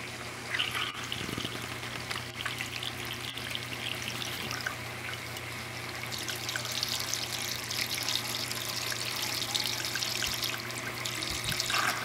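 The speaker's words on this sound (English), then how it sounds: "when we turn on the water flow" A recirculating pump sends water into a gold recovery bowl, a steady splashing, pouring flow that stays continuous and fairly faint, with a low electrical hum beneath and occasional small knocks.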